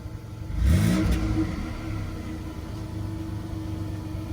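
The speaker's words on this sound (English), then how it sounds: "Rev the gas." A used car's engine idles up close, then revs sharply when given gas, rising quickly before settling back to a steady, rumbling idle.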